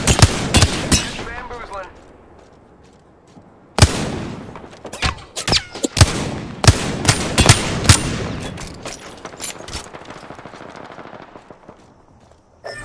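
Enemy gunfire in the battle-royale shooter Apex Legends: repeated sharp, loud shots and rapid bursts crack out in clusters, some near and some further off, with a short line of speech mixed in.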